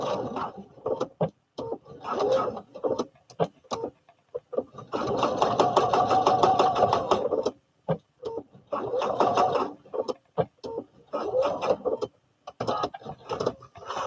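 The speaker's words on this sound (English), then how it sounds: "I'm just gonna sew that down." A sewing machine stitches down a fabric strap on a baby fall-protection pillow, running in steady rapid bursts with short pauses between, one long run in the middle, close and fairly loud.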